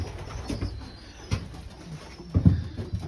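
Young pigeons coo inside a wooden coop, several low throaty coos spaced irregularly, the loudest burst near the end, fairly close, without speech.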